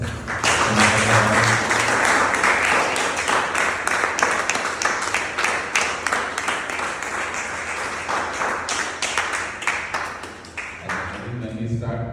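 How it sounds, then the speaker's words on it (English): Audience applause at a felicitation event, dense continuous clapping from many hands that fills the room, then thins out toward the end as a voice begins to speak. "So let's give a big round of applause."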